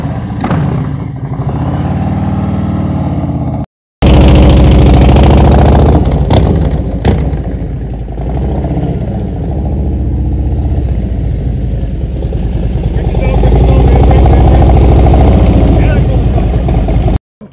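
A motorcycle engine idles and burbles at low speed as the rider eases the throttle while slowing to a stop in the friction zone, loud and close, with a brief dropout near the start.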